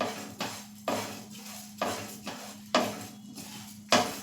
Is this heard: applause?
no